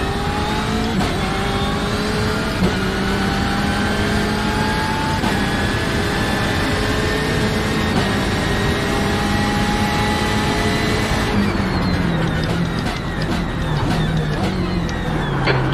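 BMW M8 GTE race car engines in iRacing at Sebring, a loud, steady high-revving whine with rising pitch sweeps through gear changes and a downshift toward the end.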